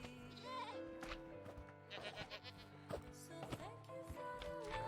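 Goat bleats from Minecraft, several wavering cries in a row over faint game background, fairly quiet.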